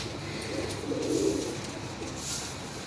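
Pigeons of a prized breeding stock coo steadily at close range, their low throaty calls swelling and fading over a constant background hum, with no talk.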